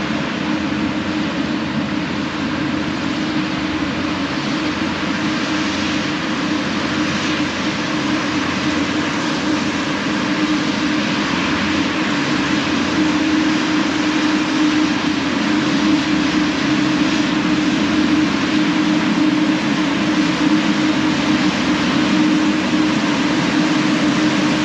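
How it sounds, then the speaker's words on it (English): A hovercraft comes in to the beach beside a pier head, its steady loud engine and fan roar droning without a break and swelling slightly as it nears. "This is the hovercraft coming in now."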